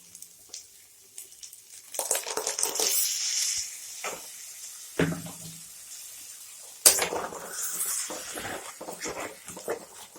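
Ginger-onion masala for pea ghugni is sautéed in a pan, with bursts of spatula scraping and soft sizzling that come and go. A couple of sharper knocks of utensil on metal stand out against near-silent gaps.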